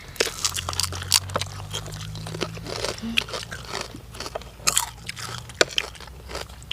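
Crunchy biting and chewing of a spicy Thai snail salad, close and loud, with repeated crisp crunches and wet mastication over several seconds.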